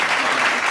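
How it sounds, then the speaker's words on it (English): A brief burst of applause, many hands clapping together in a dense, even wash, loud and close, lasting under a second. "We just need the clapping."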